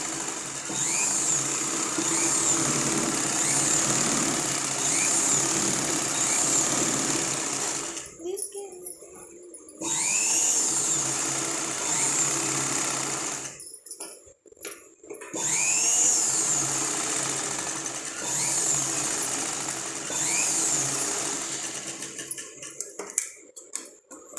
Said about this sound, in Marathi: आता मी तुम्हाला हंडी गळा कसा स्टिचअप करायचा, स्टिचिंग करायचं मशीनवर तो दाखवणार आहे